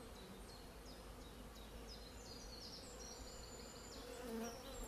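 Honeybees on a frame of emerging brood around a queen introduction cage, buzzing steadily and faintly in a soft, continuous hum, with a few individual bees whining nearer now and then.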